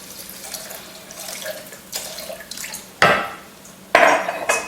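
Filtered water runs from a kitchen tap in bursts, with splashing and faint clinks of dishes between the pours.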